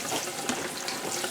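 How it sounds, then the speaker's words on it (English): Water runs over potato chunks being rinsed of lemon juice before dry canning, a steady close hiss of running water with light splashing, no voices. "I'm rinsing all the lemon juice off there"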